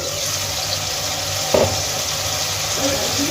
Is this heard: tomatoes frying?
yes